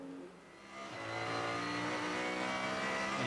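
Race car number 28 in a 2017 VLN endurance championship race, the ADAC Westfalenfahrt, roars past: the engine note swells and then holds loud and steady as it crosses the line.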